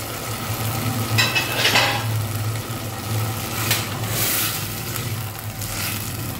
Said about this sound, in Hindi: ये सब हम इसके अंदर ऐड कर देंगे और अच्छे से कुक होने देंगे